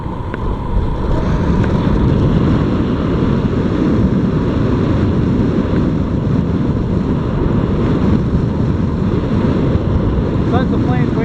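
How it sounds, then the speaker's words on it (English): Strong outdoor wind buffets the microphone in a constant loud roar at an airfield with vintage warplanes. "Oh, wind is blowing me all over."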